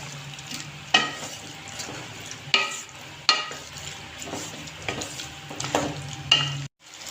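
Fried beef sizzles steadily in a hot karahi while a utensil stirs and scrapes against the metal, with periodic louder clanks, close up.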